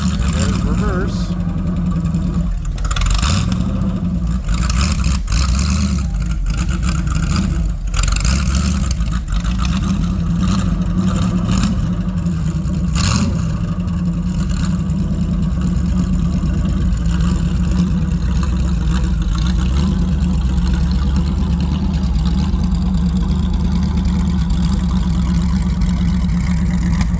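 A Bombardier snow vehicle engine runs steadily throughout, a loud continuous low rumble as it idles and is shifted between forward and reverse, with people talking over it.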